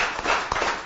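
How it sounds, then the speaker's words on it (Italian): Applause from an audience at a cycling event, a short dense burst of clapping that fills the moment, close and fairly loud with no voices over it. "Bene, un applauso alla SIA."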